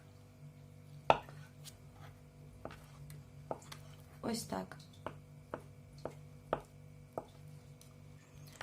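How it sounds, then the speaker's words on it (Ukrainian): Knife chopping boiled eggs into small cubes on a cutting board, a series of sharp separate taps spaced about a second apart, with someone talking briefly. "Я нарізаю яйця на невеличкі квадратики."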